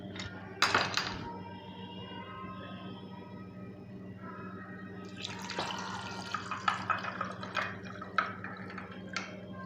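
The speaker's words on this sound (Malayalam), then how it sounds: "ആദ്യം നമുക്ക് ഒരു ഐസ് ക്യൂബ് ഇട്ട് കൊടുക്കാം." Ice cubes dropped into a glass of lime juice: one sharp, close clink early on, then after a pause a cluster of clinks and light liquid trickles over a quiet, steady room hum.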